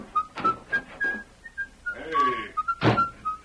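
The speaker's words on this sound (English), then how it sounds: "Now leave here and whistle as you go." A person whistles a short, cheerful tune of bright, clear notes in quick succession, with a brief breathy flourish and a soft thunk in the middle, close and fairly loud.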